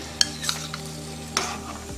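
Cashews and raisins fry in ghee with a steady soft sizzle, broken by a few sharp clinks and scrapes of a spoon stirring the pan, heard close with no voices.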